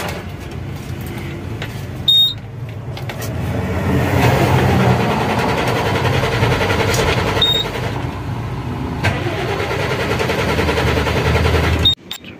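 An Ashok Leyland BS4 diesel truck engine with an EDC fault, cranking repeatedly without starting, a loud, sustained rough churning from the starter that runs for about ten seconds before stopping abruptly, with no voices.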